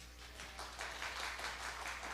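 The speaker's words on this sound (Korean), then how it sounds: "박수 한번 주세요." A church congregation claps together in steady, diffuse applause that swells after a quiet start and carries on through the moment, heard from a distance with a faint room hum underneath.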